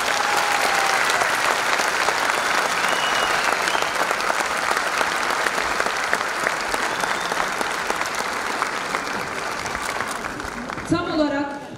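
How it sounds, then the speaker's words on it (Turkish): A large audience at a children's symphony orchestra concert applauds in a thick, continuous wash of clapping with some crowd murmur, loud and steady for most of the stretch before tapering near the end. "Hepsine koca bir alkış gelsin."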